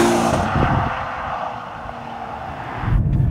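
Exhaust of a Ferrari Purosangue SUV: a steady, fairly close engine drone that dips slightly midway and swells again near the end, with no talk over it.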